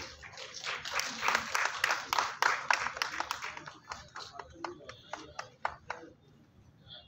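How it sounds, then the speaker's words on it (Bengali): Audience applause at a film festival closing and prize distribution ceremony, a dense burst of many hands clapping that thins into scattered claps and fades out toward the end. "করতালির আওয়াজটা কিন্তু প্রখর ছিল"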